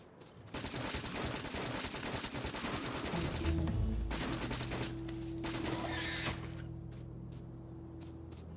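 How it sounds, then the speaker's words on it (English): Rapid machine gun fire in the Factorio video game, a dense continuous rattle of shots that runs for several seconds at close range, with a steady mechanical hum underneath. "We do have a machine gun now."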